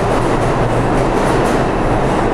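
New York subway train in a metro station, a loud continuous rumble with a rhythmic clickety-clack of wheels over rail joints, close and steady throughout.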